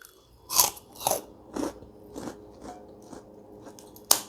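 Crisp kerupuk crackers bitten and chewed close to the mouth, a series of sharp crunches spaced about half a second apart that fade into softer chewing, then one more loud crisp bite near the end, with no talking.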